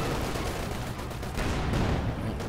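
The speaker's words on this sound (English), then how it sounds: "It's a nice rifle grenade." Rifle grenade blast and dense gunfire in a WWII strategy game battle, a continuous rattle of small-arms shots with a heavier burst near the end, loud and without talk.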